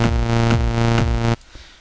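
In FL Studio, a sustained buzzy synth chord is sidechained to a kick drum: each deep kick thump lands about twice a second and ducks the synth, which swells back between hits until everything stops suddenly.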